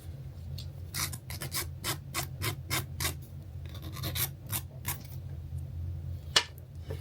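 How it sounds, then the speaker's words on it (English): A very coarse nail file rasps across a press-on nail tip in quick repeated strokes, close and crisp, with short pauses between bursts and no talking. "I'm gonna use this very coarse file to file all the tip, the nail"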